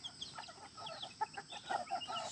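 Chickens cluck on a farm, several short calls scattered and overlapping at moderate distance over a quiet rural background, with no voices.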